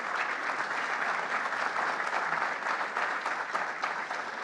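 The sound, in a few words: audience applause for winning teams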